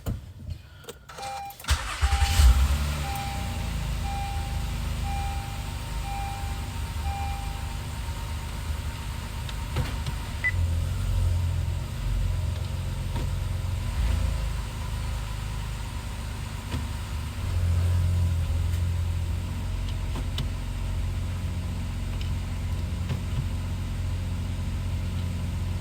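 A 2013 Honda Accord V6 starts and idles steadily while being shifted through its gears, with a low engine hum, a few faint clicks and slight shifts in load.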